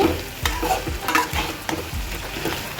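A pan of chicken pieces is stirred with garam masala, cumin powder and coriander powder, with a steady scraping of the spoon in repeated strokes over a soft sizzle from close by.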